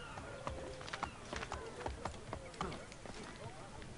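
Horse hooves clip-clop in a steady trotting rhythm in the video game Assassin's Creed 3, fairly faint, with occasional other soft noises around them.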